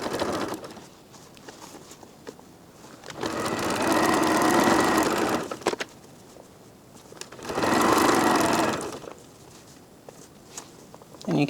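A serger sewing machine stitches along a quilt-as-you-go cover, two sustained loud bursts of rapid mechanical whirring separated by quieter pauses of fabric handling and soft rustling.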